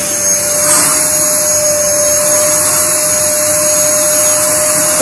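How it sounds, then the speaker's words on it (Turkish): Electric vacuum cleaner running continuously up close while collecting hair, a loud steady motor whine and airy rush with a constant high tone and no voices. "Elektrik süpürgesini çalıştırıyoruz."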